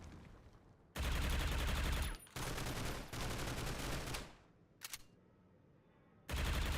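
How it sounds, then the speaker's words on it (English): Bursts of Scar rifle fire in the Critical Ops shooter game, loud and close, with long rapid volleys broken by short gaps and a brief pause near the end before firing resumes. "He knows that Scar is being shot up at him"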